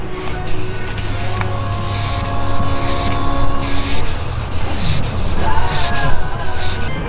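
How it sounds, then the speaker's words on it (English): Wet sanding of a Lexan Corvette targa top with 1000-grit paper kept wet with sprayed water produces steady rubbing and scrubbing strokes, close and continuous with a rhythmic swish, under a faint background hum. "I'm on the 1000 step here on the other side doing the wet sanding"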